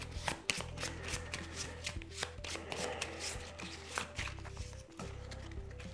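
A deck of cards for the Enchanters board game is shuffled at close range, a run of quick riffling and tapping bursts over a low steady background hum, with no talking.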